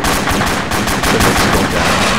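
Rapid bursts of enemy gunfire crackle in a realistic military video game, a loud, close, continuous rattle of automatic shots with no voices.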